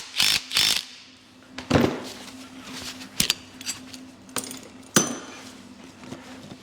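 A nut being tightened on the rear shock absorber of a Volkswagen Touran: close, sharp metallic ratchet clicks and tool knocks in short irregular bursts, with brief pauses between.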